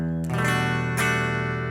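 Clean electric guitar tone through a Boss Katana 50 amp: a single strummed chord rings out, with a second strum about a second later, sustaining smoothly and clearly with no voice.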